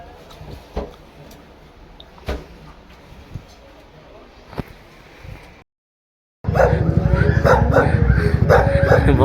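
A pitbull barks in a few sharp, spaced bursts nearby, then the sound cuts briefly and resumes louder and busier with a voice.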